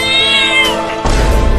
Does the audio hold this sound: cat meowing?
yes